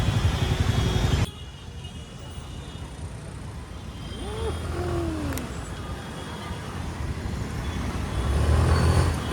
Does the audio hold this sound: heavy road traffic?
yes